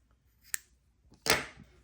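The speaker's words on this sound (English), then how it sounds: "I'm going to cut off about 2 feet of length here." Scissors snip through a length of crochet yarn at close range, a faint tick followed by a louder, brief crisp cut, alone in a quiet room.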